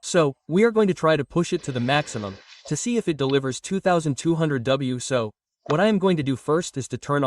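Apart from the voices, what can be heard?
No distinct noise like a dog, phone or traffic.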